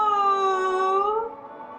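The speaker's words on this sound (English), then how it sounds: "he sounds like he's a very happy cat" A contented pet cat gives one long, close, drawn-out meow with a clear tone that rises slightly and then falls, followed by near silence.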